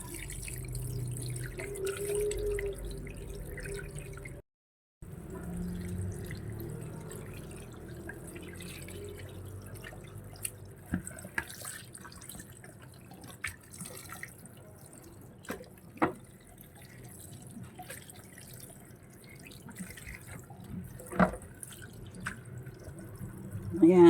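Tap water running and dripping over pork innards being rinsed in a sink for bopis, with scattered splashes and handling clatter, and a person talking over it.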